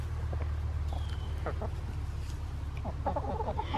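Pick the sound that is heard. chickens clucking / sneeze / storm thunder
chickens clucking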